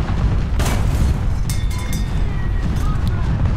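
A Pz.35t tank fires its cannon in War Thunder ground battles, giving a single loud boom early on that blends into a dense, rumbling battlefield din.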